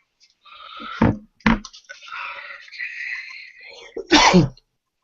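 A person sneezes sharply and close by at about one second, and again near four seconds, amid murmured talk and a throat-clearing sound in a quiet office-hours room.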